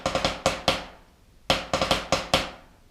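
Snare drum strokes played as drags, each grace-note double stroke landing on the "e" of the beat ahead of the main hit, in two close bursts of sharp, resonant strikes separated by a short pause, loud and alone.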